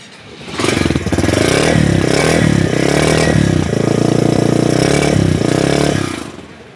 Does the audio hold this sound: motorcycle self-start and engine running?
yes